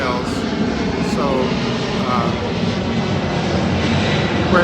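An aircraft at Miami Airport roars steadily and loudly throughout, a broad continuous engine noise with no breaks, in an outdoor airport setting.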